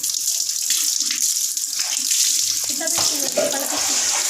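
Tap water runs steadily into a tub while a child is bathed indoors, a continuous close splashing flow with soft knocks and faint voices in the background.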